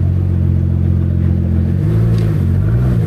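A Pagani supercar rolls up at the Concorso d'Eleganza on Lake Como, Italy, its engine a steady loud mid-range drone with rising and falling revs near the end.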